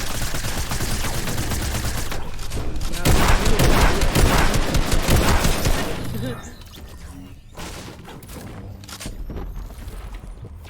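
Revolver fire in a Fortnite trios arena match: a dense burst of loud, close gunshots with a quieter stretch and footsteps after it, heard alone without talk.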